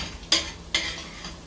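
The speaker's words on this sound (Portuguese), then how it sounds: "Pessoal, fritei o bacon, né? A linguiça e o alho." Bacon, sausage and garlic sit in a frying pan with a low, constant sizzle, cut by two quick, close scraping strokes of a spoon.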